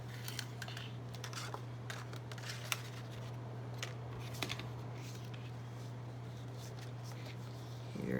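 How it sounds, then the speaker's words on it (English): Paper trimmer slicing card stock for cardmaking, heard as a series of soft, close clicks and scraping cuts over a constant low hum, with no talking. "So when we take the paper trimmer, we can really get just the perfect cut."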